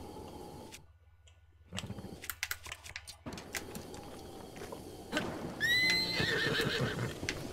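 A horse in The Legend of Zelda: Breath of the Wild neighs loudly in a rising, wavering whinny near the end, after clip-clopping hooves and scattered clicks over a quieter, uneven stretch.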